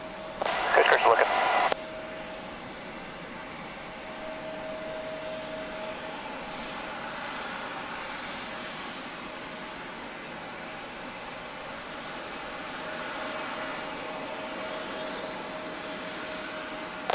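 A Boeing 737 airliner departs from San Diego with a steady, moderately distant jet roar, faint under air traffic control radio chatter that opens with a short burst of radio noise.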